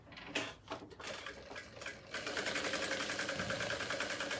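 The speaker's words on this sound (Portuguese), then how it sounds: "Vou passar uma costurinha em toda a volta." A sewing machine stitches all the way around an elastic organizer case. It runs in short bursts at first, then settles into a steady, continuous whir that stays close and fairly loud.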